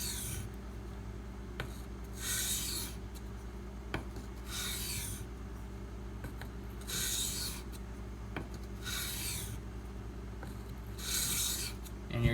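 A knife blade is sharpened on a Razor Edge System hone: five or six slow, even rasping strokes about two seconds apart, close and clear over a low steady background hum.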